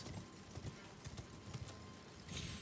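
Horse hooves clip-clop in a quick galloping rhythm in Elden Ring, steady and moderately loud against a busy game soundscape, with a brief louder swell near the end.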